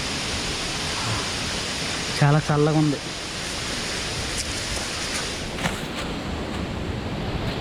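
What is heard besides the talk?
Badigunta waterfall rushing water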